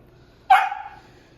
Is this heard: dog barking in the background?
yes